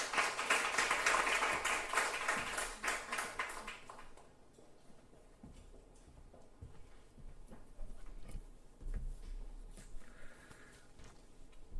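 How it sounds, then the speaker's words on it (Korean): A church congregation at a Wednesday worship service claps to welcome the preacher, a burst of scattered applause for about four seconds that dies away into quiet room noise with occasional faint knocks. "우리 따뜻한 박수로 모시도록 하겠습니다."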